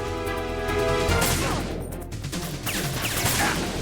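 Dense rapid gunfire from the video game Metal Gear Solid 2: Sons of Liberty, a loud sustained burst of shots, followed by a brief lull and more crackling shots.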